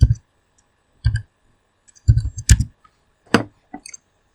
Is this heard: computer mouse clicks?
yes